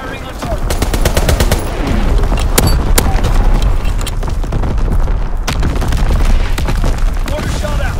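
Battlefield gunfire in Call of Duty WWII on the Shipment 1944 map, dense repeated shots and booming impacts that could include mortar fire, loud and continuous throughout, with no talk.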